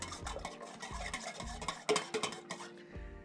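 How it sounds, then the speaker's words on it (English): A whisk or spoon stirs yeast into liquid in a bowl for Turkish bread, a quick, steady scraping and clinking against the bowl's sides that breaks into a few sharper knocks toward the end, close and alone. "In fact, you can use a whisk if you want. It's just to make sure everything's well dissolved."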